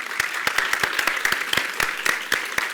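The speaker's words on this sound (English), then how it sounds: "let's give them a round of applause" Modest audience applause after a business panel at a social media breakfast event, a small group clapping with sharp, distinct individual claps, fairly close and steady for a few seconds.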